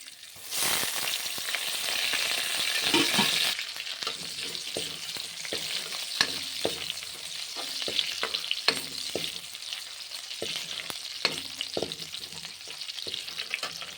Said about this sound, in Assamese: আৰু এতিয়া মই দালিত তেলখিনি মাৰি লওঁ।